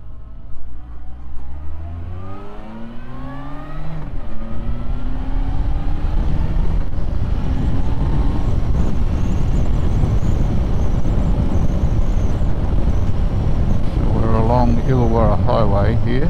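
A car cruises along a rural highway, its engine climbing through gears with rising pitch early on, then settling into a steady loud road and wind roar, with a voice briefly heard near the end.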